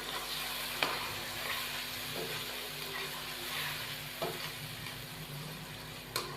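Chicken jalfrezi fries in a pan with tomato paste, ketchup and soy sauce being stirred in, giving continuous sizzling and hissing broken by occasional scraping strokes and light clinks of the spoon.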